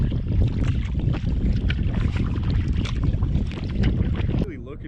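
Canoe paddling on a calm wilderness lake in Canada's north, with steady broadband water and wind rush throughout and faint paddle splashes, ending in a quieter tail.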